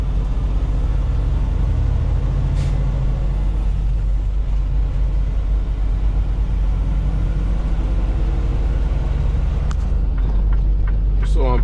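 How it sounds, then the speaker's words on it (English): A semi truck with a refrigerated trailer rolls slowly into a truck stop, its engine rumbling low and steady throughout, with a brief hiss of air brakes near the end. "So I'm pulling into the truck stop now."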